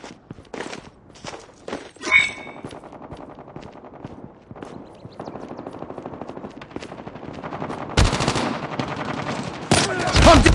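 Rapid bursts of automatic gunfire in Call of Duty gameplay, loud and sustained, interspersed with single shots and footsteps, with heavier dense firing toward the end.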